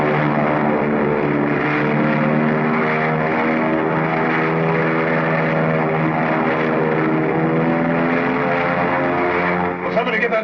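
A 1940-era propeller airplane takes off, its engine droning steadily and loudly throughout with strong, even harmonics, easing slightly at the very end.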